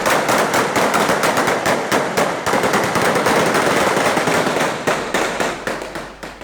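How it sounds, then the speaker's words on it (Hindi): Rapid bursts of gunfire near a polling station during an election, a loud dense crackle of repeated shots going on for several seconds before thinning out into separate cracks, no speech over it. "फायरिंग नवाही गांव गोविंदके में पोलिंग स्टेशन पर फायरिंग की गई।"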